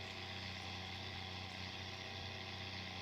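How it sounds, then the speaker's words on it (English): A truck engine in the Spintires Mudrunner video game idling with a steady low rumble and even harmonic hum, constant and quiet, with no voices. "Put on a manly sound here, nice engine purr."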